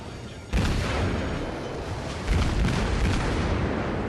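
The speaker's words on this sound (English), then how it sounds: "It looks like he's winning this artillery battle, sir." Naval artillery in a World of Warships battle: a heavy boom opens a sustained rumbling roar, then a second blast lands about two seconds later, both loud and close.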